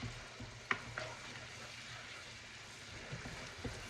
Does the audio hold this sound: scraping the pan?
yes